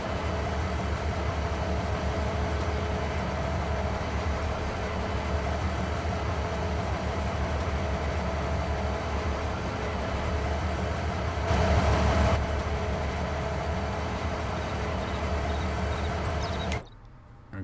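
Diesel locomotives in the video game Farming Simulator 22 rumble along the rails as a steady, loud engine drone and rolling noise, swelling briefly near the end before cutting off abruptly.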